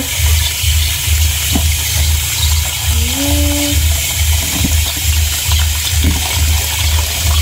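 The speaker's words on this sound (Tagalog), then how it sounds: "Yan guys, atin na pong hugasan itong mga" Water gushes and splashes steadily as kimpe are rinsed, a continuous close watery rush with a few faint clicks and knocks mixed in.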